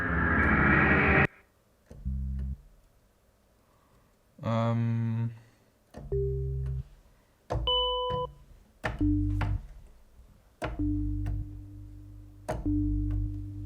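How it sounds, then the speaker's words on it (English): Waldorf Blofeld synthesizer one-shot effects: a sequence of separate hits, zaps, pitched blips and buzzy tones, each one loud and distinct, with short gaps between them and no voice present. "You can record also some one-shots from this one, because the Blofeld have some nice one-shots."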